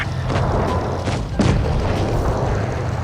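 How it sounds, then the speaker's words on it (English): A tank cannon fires one heavy booming shot in World of Tanks Blitz over a constant low engine rumble, with a few smaller thuds before the blast. "So I get a shot on him."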